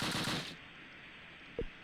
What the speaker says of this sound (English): is the AT gun shooting at Cindy or what?